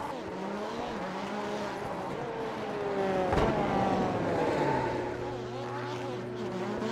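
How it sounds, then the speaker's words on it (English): Race car burnouts in the iRacing game after a dirt-track feature race at Iowa: a steady, loud engine roar with rising and falling revving harmonics and tire noise, swelling in the middle, continuous throughout. "So burnouts for Mallard."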